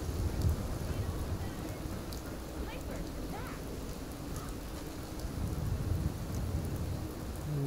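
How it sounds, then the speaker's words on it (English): Steady rain falls over Diamond City in the Fallout 4 video game, a soft continuous hiss over a low rumbling undertone, fairly quiet and unbroken throughout. "it is still raining in Diamond City"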